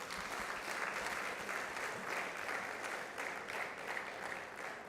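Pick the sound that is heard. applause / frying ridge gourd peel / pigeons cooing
applause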